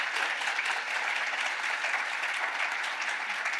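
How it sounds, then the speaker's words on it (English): Audience at a higher education climate leadership summit applauds its guests, a steady, dense wash of clapping from many hands that holds evenly throughout without voices. "one more quick round of applause for our guests"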